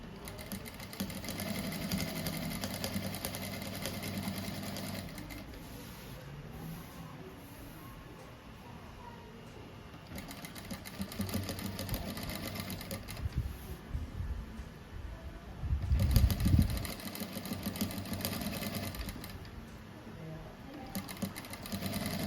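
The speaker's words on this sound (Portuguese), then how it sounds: "É bom que a gente consegue costurar bem devagar com ela também" New sewing machine stitching a simple rug at slow speed, a rapid mechanical clatter running in stretches with brief pauses and a louder thump near the end, under quiet speech.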